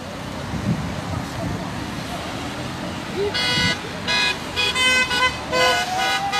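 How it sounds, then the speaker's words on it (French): Car horns honk repeatedly in support of a street protest in Lorient against health measures, several loud toots in bursts over steady traffic and crowd noise, with voices talking nearby. "Il y a beaucoup de soutien par un coup de klaxon."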